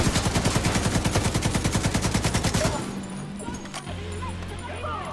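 Rapid automatic gunfire in the shooter game Tom Clancy's The Division 2, a fast even burst of loud shots for about three seconds, then stopping into quieter game ambience with a few faint pops; a voice talks faintly underneath.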